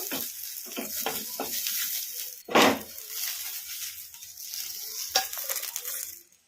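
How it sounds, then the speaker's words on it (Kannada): Green chillies frying in a kadai for brinjal raita, a soft continuous sizzle broken by several scraping stirs and a louder clunk midway, alone without speech. "ಹಸಿಮೆಣಸಿನ್ಕಾಯಿ ಚೆನ್ನಾಗಿ ಫ್ರೈ ಆಗಿದಾವಲ್ಲ"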